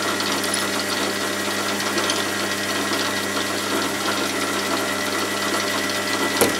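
Machine drill boring a smaller hole through a part while building a model signal box, a steady loud whirring drone with constant hum lasting throughout, alone with no talk.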